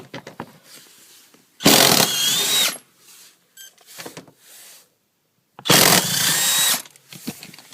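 Power tool driving out 15mm seat bolts during a heated seat install, two loud whirring bursts of about a second each, separated by quieter clicks and handling noise.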